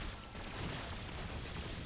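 Gunfire at zombies in Black Ops 6 Zombies, a steady low rumble of shots running through the whole short stretch at moderate loudness, with no talk over it.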